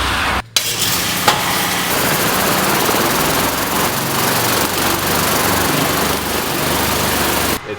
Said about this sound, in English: I'm gonna have to hit that with the power washer directly from the front